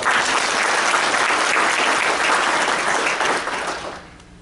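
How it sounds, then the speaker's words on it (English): Audience applause for award winners at an awards ceremony: a full, steady burst of many people clapping, close and loud, that gradually thins out and fades over the final second. "So a round of applause for them."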